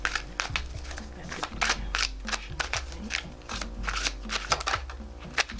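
Tarot cards being shuffled, a quick run of close, crisp riffling snaps and flicks over a low steady hum, continuing throughout.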